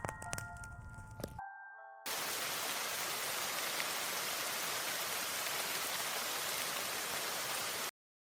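Steady broadband white-noise hiss fills the dark bathhouse of a horror video game, loud and unbroken after a brief burst of other sound and a moment of silence at the start.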